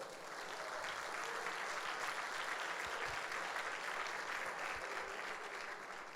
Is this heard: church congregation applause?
yes